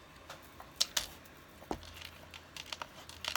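Card paper is cut down to size for a card front, giving faint, sparse crisp rustles and small snipping ticks scattered through an otherwise quiet stretch with no talking.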